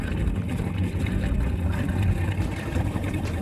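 Harley-Davidson Iron 883 motorcycle fitted with a 1250 conversion kit, riding around a local shopping center, its loud engine giving a steady, close, continuous low rumble throughout with no talking.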